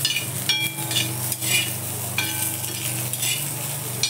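Cluster beans and green chillies dry-roasting in a pan, a steady bright sizzle with a low hum underneath, and a spatula stirring them in short scraping strokes.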